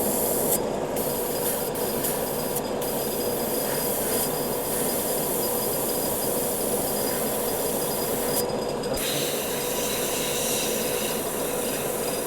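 An airbrush hisses continuously while spraying red paint onto a fantasy game miniature, a steady close-up rushing sound with brief dips where the spray pauses, and no voices.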